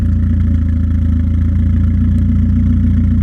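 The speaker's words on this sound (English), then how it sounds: "This is how it sounds open." A BMW with an aftermarket Valvetronic muffler, valves open, idles at close range with a steady, loud, deep rumble and a faint pulsing throb, and no talking.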